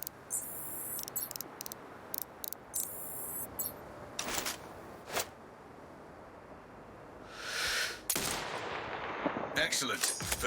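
Sniper rifle shots in the video game Sniper Ghost Warrior Contracts 2, sharp loud cracks standing out from a quiet ambient backdrop, with a few clicks and handling noises scattered between them.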